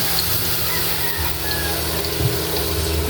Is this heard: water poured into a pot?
yes